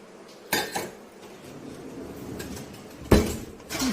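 Glasses, cups and small bowls are set into a kitchen rack, giving two distinct clattering knocks of dishware separated by quieter handling noise, close and with no talk.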